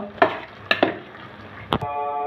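Khichuri with five or six green chilies being stirred in a pot: a few short scraping clatters of a spoon against the pot, with a soft simmering hiss underneath.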